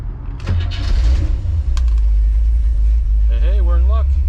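A 1957 car engine fitted with FiTech fuel injection cranks briefly and catches, settling into a loud, close, deep rumbling idle while a voice speaks near the end.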